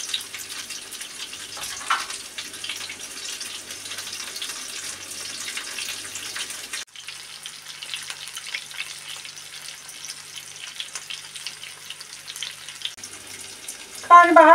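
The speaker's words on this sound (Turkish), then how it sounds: "Şimdi diğer tarafını kızartıyoruz." Cauliflower frying in a pan of hot oil gives a steady, close sizzle and crackle that runs throughout, with a brief dip midway and a clatter at the end.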